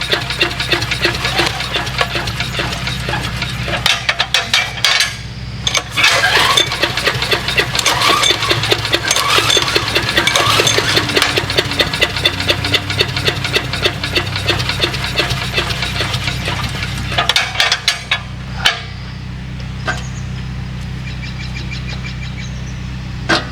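A Briggs & Stratton 6.5 OHV engine on an abandoned wood chipper runs with a steady, loud, chugging putter, surging briefly and rough at moments, then cutting out near the end.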